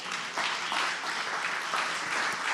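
Steady, full audience applause after a talk on living longer and better, a continuous wash of many hands clapping at even loudness throughout, with no speech over it.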